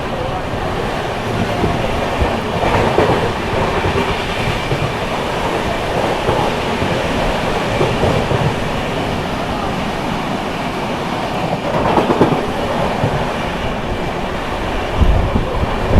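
Jharkhand Sampark Kranti Express 12826 speeds through Aligarh Junction without stopping, a loud, continuous roaring rumble of passing coaches with rhythmic wheel clatter and rushing wind, swelling briefly near the end.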